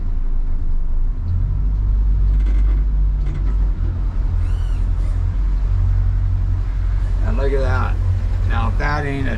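Boat steered by an Optimus 360 joystick with boost engaged, giving a steady loud engine rumble and hull drone throughout, with people talking over it.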